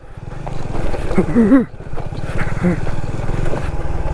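A motorbike rumbles steadily over a rough road toward trails near a beach resort in Pagbilao, Quezon, its engine close and loud, with brief rises in revs and a rider's voice surfacing now and then.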